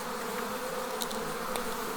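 A honeybee swarm moves into a hive, giving a steady, faint buzzing hum with a few brief closer wingbeats passing near.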